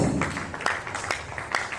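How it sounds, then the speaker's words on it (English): An audience claps to welcome a speaker at a talk on tech and finance for agricultural development; the applause is thin and fairly quiet, with a few sharper claps standing out. "An applause, please. Everybody clap, please."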